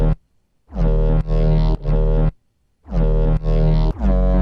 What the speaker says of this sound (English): So without all of the processing, straight out of Serum, it sounds like this.